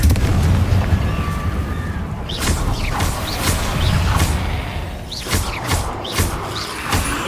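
A Confringo fire spell bursts in Hogwarts Legacy, with several sharp explosive blasts and crackling impacts over a dense, continuous game soundscape of rumble and combat noise.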